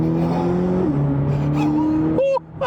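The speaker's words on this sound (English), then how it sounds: "so let's give it a little throttle here." A 2026 Chevy Corvette ZR1 supercar accelerates hard on throttle, its engine note climbing and shifting up through gears, loud and close, with a brief pause before pulling again; no speech.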